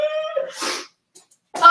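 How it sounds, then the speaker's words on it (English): A single person's sneeze bursts out after a brief held tone, followed by a pause and then a voice resuming nearby. "I gotta sneeze."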